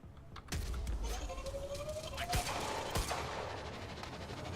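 Pistol gunfire in the video game Quantum Break, a few sharp shots at irregular intervals over a faint background hum, with sporadic clicks between them.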